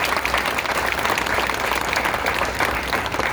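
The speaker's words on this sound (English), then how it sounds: "Can you give him a round of applause?" An audience at a Patchogue community gathering gives a legislator a round of applause: thick, loud, continuous clapping from many hands, evenly sustained and close, with no speech.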